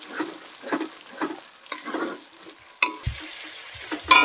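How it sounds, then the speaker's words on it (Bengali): An egg frying in a pan, with soft rhythmic stirring and light sizzling up close and a few sharper clatters toward the end. "ডিমটা এবার সুন্দর করে ভেজে নেব।"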